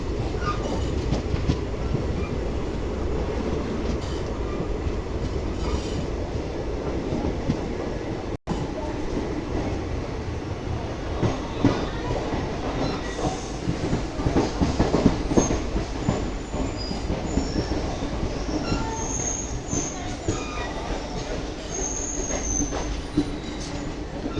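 The Uttaranchal Sampark Kranti Express pulls into Rampur Junction railway station, a long steady rumble of rolling wagons with rhythmic wheel clatter and occasional thin squeals, loud and continuous throughout.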